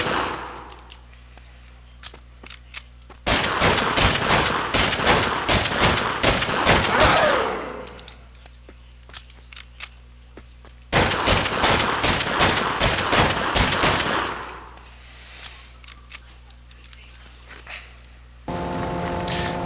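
Gunfire in the video game Fallen Earth comes in two long, loud bursts of rapid automatic shots, separated and followed by quieter stretches of background game sound.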